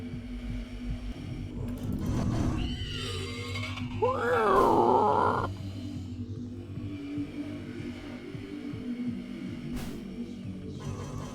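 Video game creatures let out pig-like grunts and groans, a rough burst followed by a louder, tonal moaning squeal lasting about a second, set over a low steady hum with quieter rumbling afterward.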